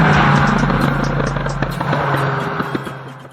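A 700-horsepower Mitsubishi Lancer Evolution X, tuned for car racing in Japan, overtakes with a loud, steady engine roar that stays close and full throughout before easing slightly toward the end.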